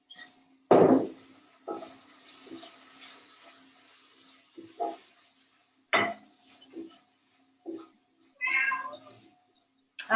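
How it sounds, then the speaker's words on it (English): A hungry cat meows repeatedly in a kitchen, a loud close first cry followed by a string of shorter, quieter meows spaced a second or two apart. "My cat is also hungry."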